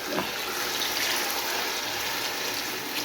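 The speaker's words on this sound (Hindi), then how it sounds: "मैंने पानी डाल दिए" Steady broadband rush of water pouring continuously into a cooking pot, close and fairly loud, with no voices throughout.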